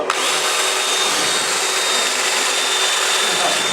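Gentle sanding of a wooden inlay platter with 600 grit abrasive on a power tool, a steady loud whirring hiss held for several seconds, close by.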